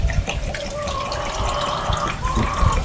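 Coolant poured into the radiator of a Farmall Cub tractor, a steady close trickle and gurgle of liquid with no voice.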